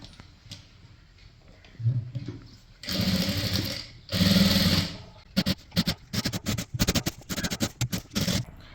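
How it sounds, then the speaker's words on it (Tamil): Sewing machine stitching the sleeve of a zip nighty, starting with a few short runs and then long steady bursts, followed by a rapid series of short stop-start stitching passes, close and clear. "இப்போது இங்கே வந்து தைக்கலாம்"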